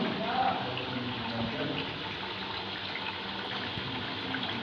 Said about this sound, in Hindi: ये देखिए पानी डाल दिया।